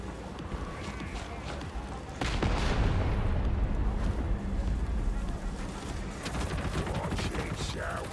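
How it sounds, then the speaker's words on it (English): Gunfire in a Warhammer-style video game, a loud burst of rapid shots that breaks out partway through and continues as a rattling barrage over a rumbling backdrop, with voices talking at times. "Why are you shooting me?"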